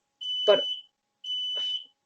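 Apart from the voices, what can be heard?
smoke alarm going off in a house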